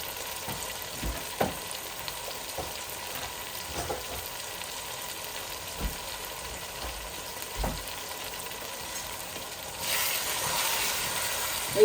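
Yogurt mixture stirred in a large cooking pot for kacchi biryani with chicken, a soft steady sizzle and hiss broken by faint scrapes and taps of the spoon, growing a little louder near the end.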